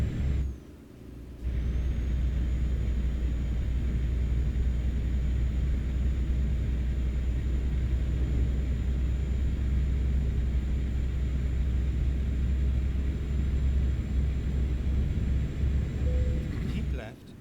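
An IVECO truck with a short tractor in Euro Truck Simulator gives a steady, loud engine drone while driving. It opens with a brief hiss like an air brake, and there is no talk over it.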